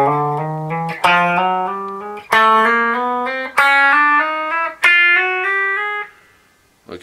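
A distorted electric guitar climbs note by note in a steady chromatic run, each pitch ringing with harmonic buzz, with short pauses between groups of notes.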